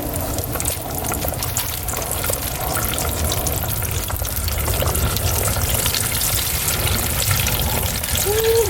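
Food fries in hot grease with a dense, steady crackle and sizzle, close and loud, for several seconds without any talk over it.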